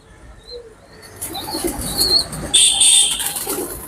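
Pigeons resting on a quiet afternoon give soft coos, then a rising flurry of flapping wings and high chirps, close by and growing louder toward the end, with no one talking.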